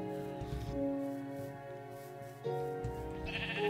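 Sheep in the game Minecraft bleat in a couple of loud, close, wavering calls that overlap one another, with no talking.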